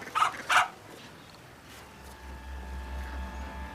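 A dog gives two sharp, close barks in quick succession, then falls quiet while a low background rumble rises.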